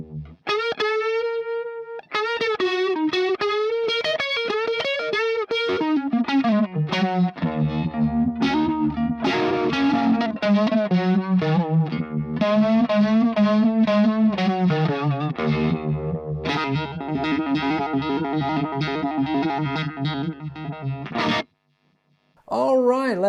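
An electric guitar through a UniVibe set to Jimi Hendrix's settings, playing soft Machine Gun style lines with a pulsing, swirling wobble, loud and close, stopping briefly near the end.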